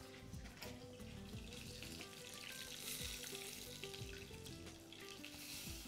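A cream sauce bubbles and sizzles in a pan in a home kitchen, a steady dense crackle and hiss that stays close and fairly quiet throughout, with no talking.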